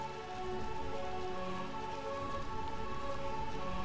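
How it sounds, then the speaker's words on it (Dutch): Steady, dense rain falls over the village of Burmecia in the Final Fantasy IX video game, an even, continuous downpour with faint sustained tones beneath it and no voices. "Oftewel, dit is eigenlijk een dorp waar het altijd regent."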